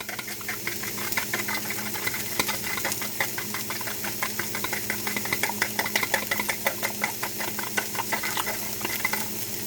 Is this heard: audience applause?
no